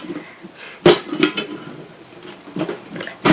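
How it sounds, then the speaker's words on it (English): Stainless steel cutlery packed into a Summit tiffin camping cook set, a few sharp metallic clanks and clinks spaced out, with quieter rattling between them. "Put all our cutlery inside, even this little thing."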